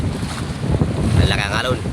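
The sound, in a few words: strong gusty wind at sea on a boat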